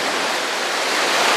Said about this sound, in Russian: Вот из этих кустов падает река с пресной холодной воды.